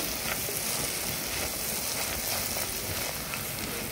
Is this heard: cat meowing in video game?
no